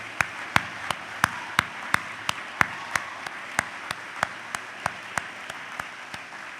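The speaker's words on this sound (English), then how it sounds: "give one more round of applause" A staff audience at a divisional meeting claps in even unison, about three sharp beats a second. The steady rhythm is crisp and carries through the whole stretch.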